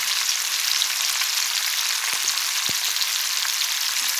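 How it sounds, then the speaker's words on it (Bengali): Fish frying in a pan makes a steady, dense sizzle that holds at an even level, with a couple of brief soft knocks partway through and no voices. "তোমার একসঙ্গে মানে অনেকটা মাছ ভাজা হয়ে যায়"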